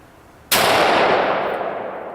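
A single loud rifle report from a Mossberg .270 firing a hot load outdoors, a sharp blast at onset followed by a long, slowly fading rumble and echo with no talking.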